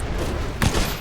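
Gunfire during a video game shootout, a dense, continuous burst of loud shots with a heavier blast about midway through.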